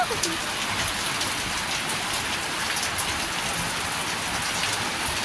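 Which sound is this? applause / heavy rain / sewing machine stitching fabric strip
heavy rain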